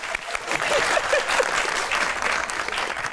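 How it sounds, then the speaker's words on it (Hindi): Audience applause at a live comedy talk show taping, a continuous broad wash of many clapping hands, fairly loud and even throughout, alone without talk. "तालियां।"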